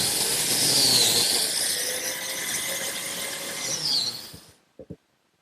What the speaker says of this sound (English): Now some slots for biscuits, both in the plywood and in the oak.